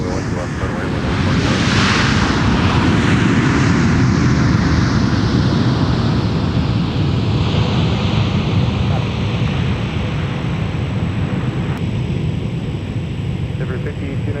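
Air France jet roaring steadily at Minneapolis–Saint Paul airport, a loud sustained broadband rumble with a slowly shifting hiss as the aircraft passes near the runway, buffeted by wind noise throughout.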